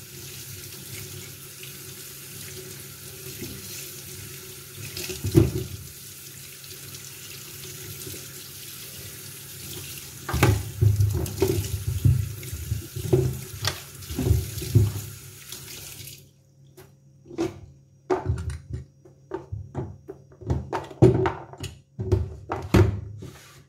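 Chicken pieces are washed under a running kitchen tap, a steady splashing water flow with clunks and knocks of handling in the sink, then the tap cuts off leaving scattered drips and thuds.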